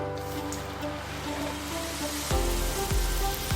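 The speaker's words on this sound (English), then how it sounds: "My oil is blazing hot, and I begin to toss in my crackers, at least 3 at a time." Spicy crackers dropped into blazing hot oil, a continuous bubbling sizzle that surges louder as new crackers hit the oil, close and steady under faint background hum.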